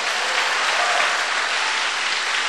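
A church congregation claps in praise, a dense, steady wash of applause lasting a few seconds with no voices over it.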